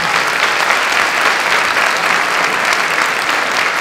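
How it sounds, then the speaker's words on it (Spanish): A conference audience at a thanatology talk gives a speaker a loud, sustained round of applause. The dense clapping runs evenly throughout, close and full, with no voices standing out. "recibamos con un fuerte aplauso a nuestra embajadora del día de hoy, María del Carmen Castro."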